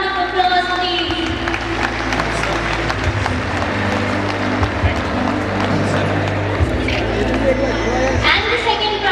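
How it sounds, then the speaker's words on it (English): A dense, sustained crowd roar fills the whole stretch at an awards ceremony, with clapping and cheering blending into a loud, steady wash of audience noise. "Can we have louder round of applause, please?"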